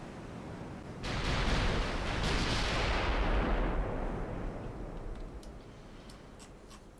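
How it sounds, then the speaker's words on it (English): 15-inch naval guns firing in a video game, one heavy booming blast that rolls out into a long decaying rumble lasting several seconds, with a few faint ticks afterward. "first showing of the 15-inch guns"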